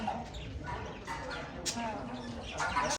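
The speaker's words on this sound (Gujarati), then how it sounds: "અહીંયા કુકડા હે કુકડા" Soft clucks and short calls from chickens come in scattered bursts, fairly close, mixed with faint background chatter of people nearby.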